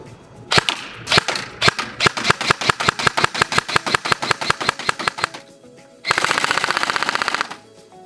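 Rapid gunfire from a 5.56 AR-style rifle, first a few spaced shots then a fast string of sharp cracks, followed by a brief dense burst of rattling fire, loud and close with no talking.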